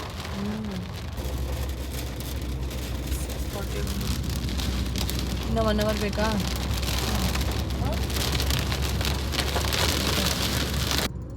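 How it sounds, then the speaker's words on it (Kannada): Heavy rain pours down in a steady, dense hiss throughout, heard from a car on a road trip, while people talk briefly beneath the downpour. "ಸಡನ್ನಾಗಿ ಇನ್ನೂ ಜೋರಾಗಿ ಮಳೆ ಬರ್ತಿದೆ"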